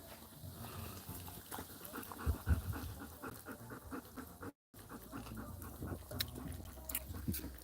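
A dog pants steadily after swimming in a small outdoor pond, quick rhythmic breaths close by over faint outdoor background, with one brief dropout partway through.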